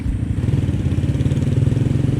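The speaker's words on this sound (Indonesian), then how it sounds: "Wih, suara knalpotnya enak. Enak suara knalpotnya." Exhaust of an old, well-maintained motorcycle idling nearby, a loud, steady low throb with a regular, slightly lumpy pulse and a faint mechanical clatter, with no talk over it.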